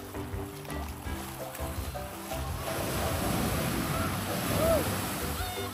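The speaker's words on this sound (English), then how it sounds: "There's a gorgeous wave coming." An ocean wave breaks at the shore, building into a broad, rushing surge of foam that grows louder through the second half and holds steady near the listener.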